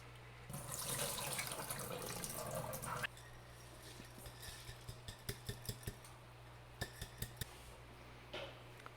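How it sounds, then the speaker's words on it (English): Water pours steadily onto a tray of soil planted with soaked sunflower seeds for microgreens, then gives way to faint trickles and several distinct drips and taps, close by with no talking. "Add water."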